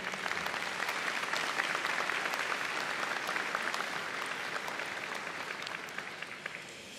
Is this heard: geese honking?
no